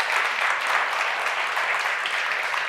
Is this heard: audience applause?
yes